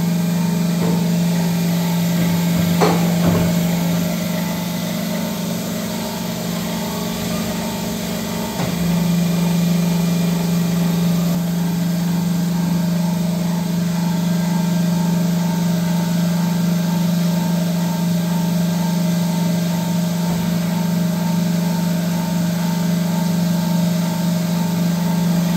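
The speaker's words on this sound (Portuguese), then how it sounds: "Estou cortando essas cantoneiras aqui" Steel angle pieces are cut for a household job, with a loud, steady motor drone running continuously for the whole stretch and no voices.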